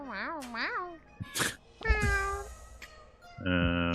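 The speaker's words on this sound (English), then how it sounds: "You're not sure what the street cat said, but something has changed." A street cat in the video game Boyfriend Dungeon meows in several rising and falling calls, close and clear, with short gaps of soft game sound between them.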